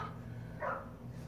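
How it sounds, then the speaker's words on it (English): A short, sharp dog bark from another dog rises briefly over a steady low hum, heard at moderate distance. "There's 2 dogs barking at each other."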